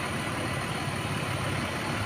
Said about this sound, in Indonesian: Inilah bus Mercedes